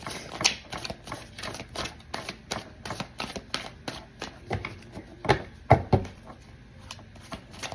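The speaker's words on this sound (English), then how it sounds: "I love sitting here shuffling." Tarot cards being shuffled by hand during an Aquarius tarot reading, a quick run of crisp, close papery riffles and taps repeating irregularly for several seconds, with no talking over them.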